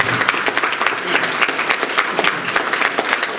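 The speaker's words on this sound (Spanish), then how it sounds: "Muy agradecido a ustedes y nuevamente un voto de aplauso." Seminar audience at a talk on a criminal procedure code applauding, a loud, dense, continuous roar of many hands clapping close by throughout, with no talk over it.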